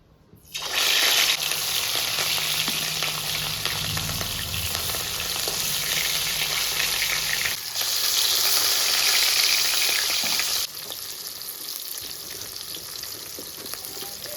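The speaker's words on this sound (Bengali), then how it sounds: "মাছ ভেজে নেব।" Fish fries in hot oil in a wok, a loud, steady, close sizzle that flares up after a quiet start and shifts in intensity partway through, with no talking.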